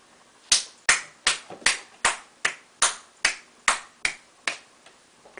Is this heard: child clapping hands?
yes